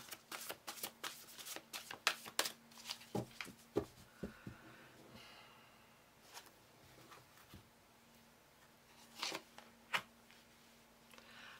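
Tarot cards being handled and shuffled, a series of crisp riffling bursts and soft flicks, some clustered and some spaced out, near and fairly quiet, with a faint steady hum underneath.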